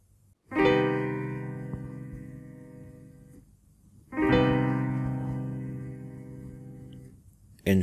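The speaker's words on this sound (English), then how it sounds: "This is the sound of a minor major 7th in root position." A minor major seventh chord in root position, played as a sustained keyboard-like chord struck twice, each strike ringing out and slowly fading, clear and alone.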